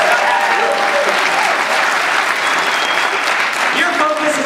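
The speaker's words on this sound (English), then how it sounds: "You guys give these people a big round of applause for being here and investing in yourself." A large audience gives a loud, sustained round of applause at a motivational business gathering, dense clapping filling the whole stretch without letting up.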